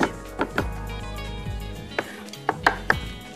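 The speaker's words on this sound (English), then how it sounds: "You first of all chop it very fine" Garlic is chopped very finely with a knife on a cutting board: a series of sharp, close knocks in an uneven rhythm, with no talking.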